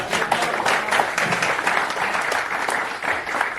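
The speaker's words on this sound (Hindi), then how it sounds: "अब ताली आ जाए तो आगे बढ़ाओ।" Audience applause at a Hindi celebration in a Government of India finance ministry revenue department office, a dense, even clapping that holds steady throughout.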